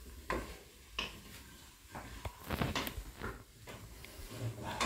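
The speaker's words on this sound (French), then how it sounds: "Il est en train de touiller." Risotto with sausages being stirred in a Cookeo electric pressure cooker, with soft scraping, clicks and light sizzling from the pot at close range, and faint voices in the room.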